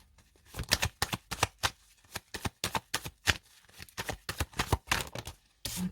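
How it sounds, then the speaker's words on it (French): Golden Universal Tarot and oracle cards are shuffled and laid out in a rapid series of crisp riffling and slapping bursts, close and fairly loud, with no talking. "je vais recouvrir ce premier trimestre avec une carte du tarot Golden Universal Tarot et une carte de l'oracle"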